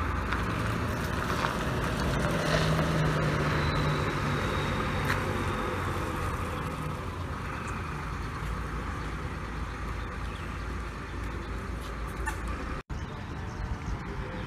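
A Hino RN285 bus rumbles at a bus terminal in Wonogiri with a steady low engine drone, backed by traffic and a faint voice amid the open-air bustle.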